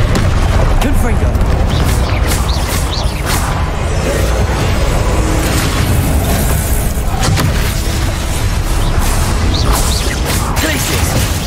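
Fire spells burst in a duel in Hogwarts Legacy, with loud booms and crackling impacts packed densely over a constant roar of combat noise.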